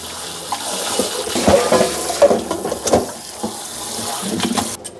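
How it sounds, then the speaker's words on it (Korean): Cold tap water runs and splashes over blanched spring cabbage in a sink, an uneven gushing and sloshing close by as the leaves are rinsed by hand, with no talking. "이렇게 쏟은 다음에 찬물에 한번 헹궈줘야 됩니다."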